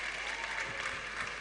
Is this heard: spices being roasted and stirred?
no